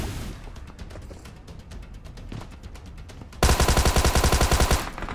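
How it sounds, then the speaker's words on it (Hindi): A Tommy gun rattles in the video game BGMI, first as muffled, distant-sounding bursts, then as a loud close string of about a dozen rapid, evenly spaced shots before it cuts off. "नाइस टॉमी भी अच्छी गन है भाई।"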